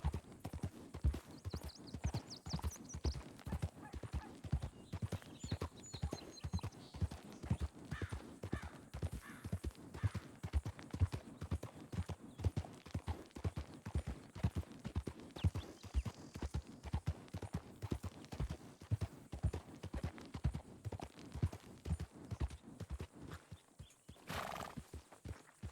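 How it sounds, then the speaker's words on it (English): Horse hooves clip-clop in a steady, even rhythm throughout the scene, with a whinny mixed in, in the Red Dead Redemption 2 video game on a ranch. "Clip clop, clip clop, clip clop."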